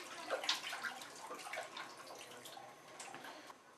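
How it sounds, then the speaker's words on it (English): A photographic test strip rinsed in a darkroom water tray: soft splashing and trickling with a few brief sloshes, faint and close, with no talking. "After you rinse off your test strip"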